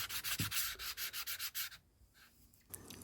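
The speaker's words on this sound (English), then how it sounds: "it's sort of a dull aluminium as you're stoning the top of it" Sharpening stone rubbing back and forth over a dull aluminium mating face on a 1939 Excelsior Universal's Villiers 9D engine, a close, steady rasping scrape in even strokes that stops partway through, leaving near quiet.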